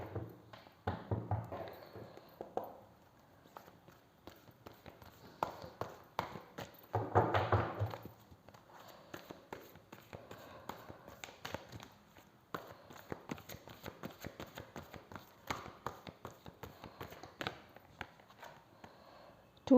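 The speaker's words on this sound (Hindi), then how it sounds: "चलिए पहले मैं कार्ड्स निकालती हूँ" Tarot cards being drawn and shuffled, a long run of soft taps, flicks and thumps of card stock handled close by, in an irregular rhythm with a brief louder rustle, and no voice.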